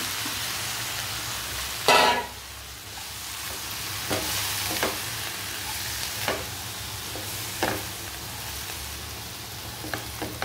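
Spinach and chopped tomato fry with chilli powder in a pan for Andhra palak gravy, a steady close sizzle with a loud clatter near the start and several sharp spoon scrapes and taps recurring through it.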